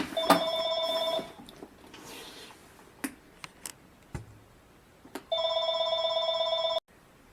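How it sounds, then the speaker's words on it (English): A telephone rings indoors in two long, loud electronic bursts with quiet clicks and handling sounds between them and no talking. "Sorry, the phone was ringing."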